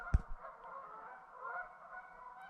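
A flock of geese honks as it flies in over open Montana elk-hunting country. The calls form a continuous, fairly distant chorus, and a brief thump of handling noise sounds near the start.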